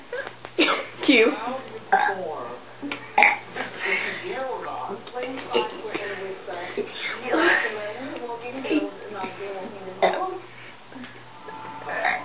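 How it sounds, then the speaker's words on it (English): A boy burps his way through part of the alphabet, a run of drawn-out, voiced belches strung together one after another, close and loud, with brief gaps between. "burping part of his ABCs"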